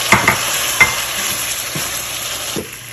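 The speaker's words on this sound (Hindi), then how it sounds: "अब चिकन हमारा भुन चुका है।" Chicken sizzles and fries in a pot while being stirred, with a few sharp clinks of a spoon against the pot over continuous crackling.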